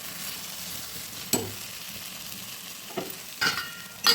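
Farm-fresh green chillies frying in oil with salt, a faint steady sizzle with a few sharp clinks and scrapes of a utensil, quiet and close, with no talking.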